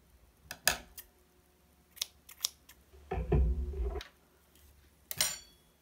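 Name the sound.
scissors cutting knitting yarn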